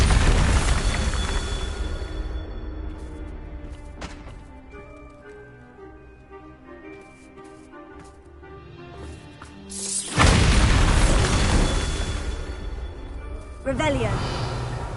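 Explosion spells from a Harry Potter video game burst out loudly, with a heavy blast near the start and two more sharp booms later, separated by a quieter stretch of ringing magical tones and game music.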